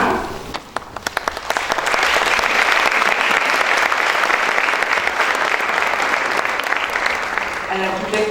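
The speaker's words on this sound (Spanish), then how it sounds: "darles la bienvenida al podio con un aplauso" An audience at an architecture faculty conversatorio at UNAM applauds to welcome a speaker to the podium, sustained dense clapping filling the room for several seconds before fading.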